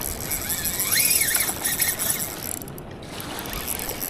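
A fishing reel's drag clicks in a steady, close ratcheting run as a 3 kg balo fish is reeled in, fading slightly toward the end with no talking.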